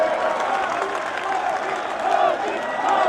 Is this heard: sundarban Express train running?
no